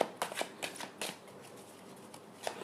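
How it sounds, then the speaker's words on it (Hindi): Tarot cards being shuffled and drawn from a deck, soft papery riffles and quick flicks in short bursts, close and quiet with no talking. "Okay, let's pull some cards for from other deck."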